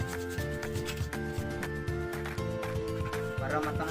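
Sandpaper rubs back and forth on a homemade spearfishing lure in a steady, rapid rhythm, a close gritty scratching over a humming background.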